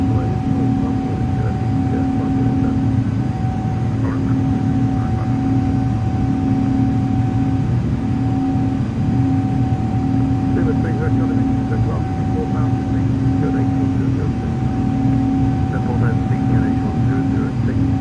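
Steady, loud jet engine roar from an Airbus A339X at climb thrust in Microsoft Flight Simulator, a constant drone with a whining tone throughout, with no spoken words.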